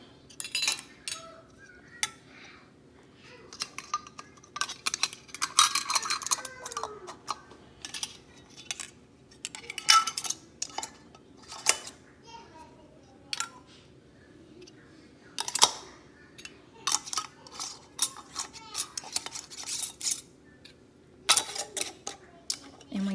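Glass canning jars of tomato sauce clink and tap as metal lids are set on, giving a string of irregular close clatters and scrapes with short pauses, and a voice speaks now and then between them.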